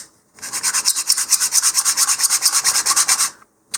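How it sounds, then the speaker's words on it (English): Sandpaper rubs the fin ends of a LOC Precision Lil' Nuke 2-inch model rocket in quick, rhythmic back-and-forth strokes, a dry scratchy rasp about five strokes per second, close and isolated for a few seconds. "you may need to come over onto the two ends and do a little more sanding"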